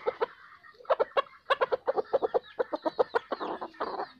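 Young chickens of the F3 line with high wild blood cluck in a quick, busy series of close, overlapping calls, the pace steady and the sound fairly loud.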